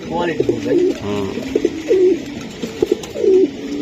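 Racing pigeons coo up close in repeated soft, throaty rolling calls with short gaps, several birds overlapping in a loft, a few light wing or foot taps between calls.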